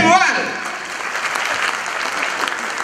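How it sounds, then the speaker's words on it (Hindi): An audience claps at a Hindi stage play. Dense, sustained applause fills the hall, with a brief voice at the very start. "तालियां बजती रहेंगे।"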